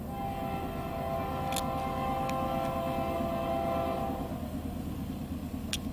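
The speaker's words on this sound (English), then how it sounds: "I heard a train coming, so we can wait for the train." A train passes close by a rural road beside farm fields, a steady loud rumble with sustained tonal hum and a few brief sharp squeals or clicks over about six seconds, with no talking.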